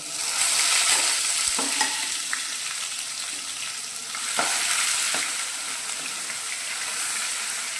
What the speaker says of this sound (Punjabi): ਮਸਾਲੇ ਜਿਹੜੇ ਨੇ ਭੁੰਨੇ ਗਏ ਨੇ ਤੇ ਹੁਣ ਆਪਾਂ ਜਿਹੜਾ ਪਿਆਜ਼ ਅਦਰਕ ਲਸਣ ਰੱਖਿਆ ਸੀ ਪੀਸ ਕੇ ਉਹ ਪਾ ਦਿੰਨੇ ਆ